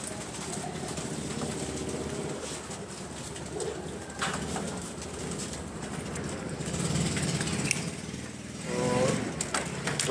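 Pigeons coo in soft, rounded repeated calls over a constant low background hum, with a louder coo near the end.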